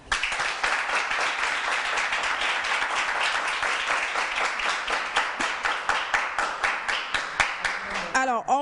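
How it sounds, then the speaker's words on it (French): Audience applause during a quiz competition, steady crowd clapping throughout that thins toward the end into more distinct rhythmic claps. "On l'applaudit."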